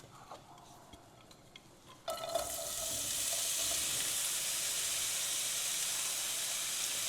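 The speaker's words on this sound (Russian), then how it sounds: "И начинаем жарить лук." Onion hits hot sunflower oil in a heated frying pan after two seconds of quiet, bursting into a loud, steady, close sizzle that hisses on unbroken.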